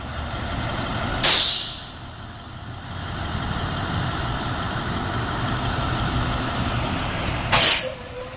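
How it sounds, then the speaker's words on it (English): A school bus idles with a low engine rumble, giving two loud, sharp hisses of its air brakes, one early and one near the end. "There's a school bus here, y'all."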